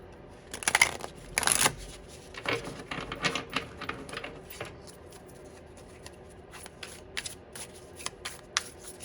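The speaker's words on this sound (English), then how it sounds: "So bear with me as I shuffle these cards." Stiff new tarot cards are shuffled by hand in close, crisp bursts of riffling and flicking, loudest early on and then continuing as softer, irregular patters with no talking.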